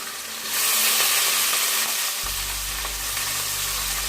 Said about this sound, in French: Je vais mettre tous mes ingrédients. Que j'avais coupés.